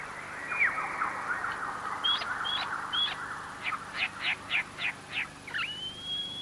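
An Australian lyrebird in eucalyptus forest sings a varied sequence of mimicked calls: a whistled phrase, several sharp upward chirps, then a fast rhythmic run of repeated notes, moderately close and clear over quiet background.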